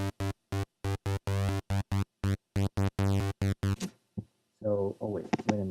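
An old-school acid synth bass patch plays a simple MIDI line, a run of short, evenly spaced staccato notes, then stops; a voice speaks briefly afterward.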